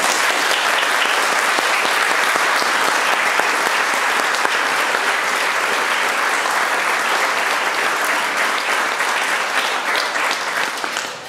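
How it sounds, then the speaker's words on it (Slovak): Loud, sustained applause from an audience of parents and guests at a school's closing concert, dense and even clapping filling the hall for about eleven seconds before tapering slightly. "tak poprosím ešte jeden potlesk"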